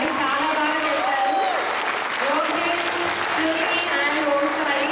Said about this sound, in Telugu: ఒకసారి మన యూత్ టాలెంట్ యాంకర్స్కి ఒకసారి అందరూ క్లాప్స్ కొట్టారండి